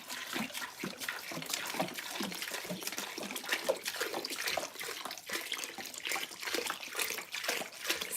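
Water poured from a jug into a homemade composting toilet setup splashes and trickles steadily and close by for the whole stretch, with no talk over it.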